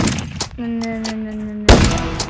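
Gunshots in a Roblox video game: a few sharp reports, a held tonal hum, then a sudden loud close blast with a crackling tail.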